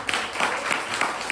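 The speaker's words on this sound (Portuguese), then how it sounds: "Você pode aplaudir o Senhor?" Church congregation clapping in praise after a sermon, a steady patter of hands filling the short moment with no talk over it.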